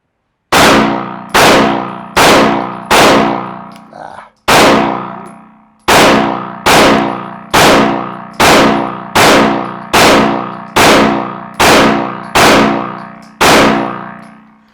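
Handgun shots fired one at a time during a private shooting lesson, about a dozen loud, sharp reports at a steady, unhurried pace, each followed by a short ringing decay, with no talking between them.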